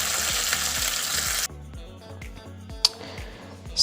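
Leftover braised onions hit a hot pan with a loud, close sizzle that drops to a softer, steady frying hiss, broken by a few utensil clinks and scrapes.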